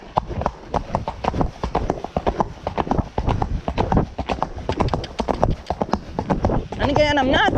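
Horse hooves cantering in a steady, rapid clip-clop rhythm, loud and close throughout, with a brief whinny-like sound near the end.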